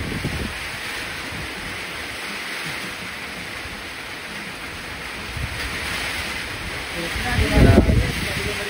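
Strong storm wind blows steadily in a broad noisy roar with rain-like hiss, gusting louder near the end, while people talk over it.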